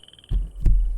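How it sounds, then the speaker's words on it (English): Frogs croak in a small steady chorus in the video game Obduction, faint and pulsing in the background, partly covered by two heavy low thumps. "Okay, can I approach the frogs? Because I hear frogs."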